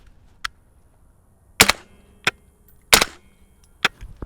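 Five sharp suppressed gunshots from a SilencerCo Hybrid 46M in its shorter, lighter shorty configuration on 9mm at an outdoor range, spaced irregularly with quiet gaps between the cracks.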